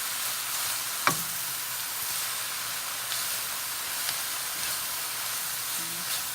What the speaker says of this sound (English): The carrots, the gnocchi mixed in. Just want to give it a little toss.